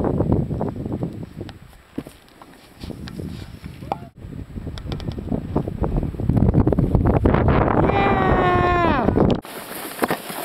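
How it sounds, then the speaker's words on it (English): Strong wind of about 60 mph on a snowy mountain buffets the microphone with a constant roar and gusty rumble, while muffled voices and a rising tonal whine come through near the end. "They say there's 60 mile per hour winds."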